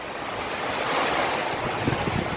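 Typhoon Quinta sends strong wind roaring across the microphone while surf pounds steadily underneath, a dense, continuous wash with no voices.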